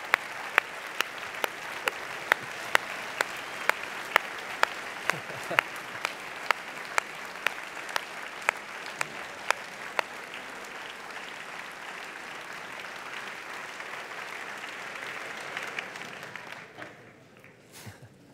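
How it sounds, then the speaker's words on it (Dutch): Thunderous applause fills a GroenLinks party congress hall, a dense steady roar of clapping from a large crowd with sharp individual claps standing out, sustained for over fifteen seconds before fading quickly. "mag ik een daverend applaus voor Paul Rozemuller"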